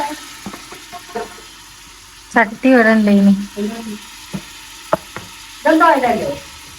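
Onions frying in ghee for a biryani topping give a steady sizzling hiss through the clip, while a person speaks in short bursts over it.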